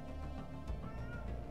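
A house cat meows faintly in a room over a steady background hum, a short soft call standing apart from the surrounding chatter.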